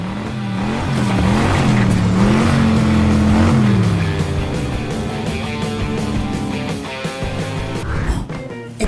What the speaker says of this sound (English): here we are again, on the track for another exciting monster truck race.